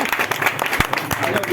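A small group claps at a home colony gathering for a Ramayana recitation and book release, scattered individual hand claps close by over a noisy room.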